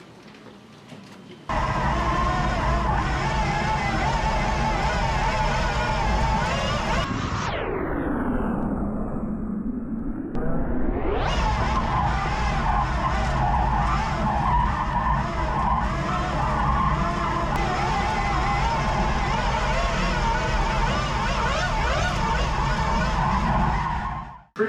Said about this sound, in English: so I want to show you some other drifting